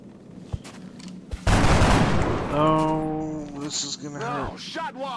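Gunfire from a futuristic squad tactics battle in XCOM Enemy Unknown: a sudden loud burst of rapid shots, then ringing sci-fi weapon and impact tones that fade as game speech plays under it.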